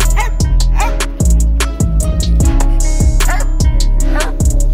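Loud, close hunting dogs bark over and over in sharp, irregular volleys, mixing deep bow-wows with higher yips and whimpers, and there is no talk.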